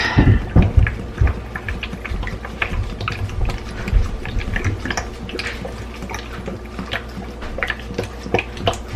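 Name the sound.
pouring vinegar into a jar of chive flowers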